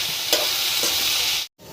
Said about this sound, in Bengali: এখানে আমি সামান্য আলু ভাজি করে নিচ্ছি।